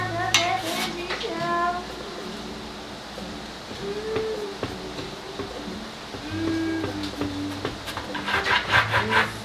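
A knife saws through a cooling-rack-marked loaf of bread for holiday stuffing, giving repeated scratchy strokes close by, with a voice talking intermittently over the cutting.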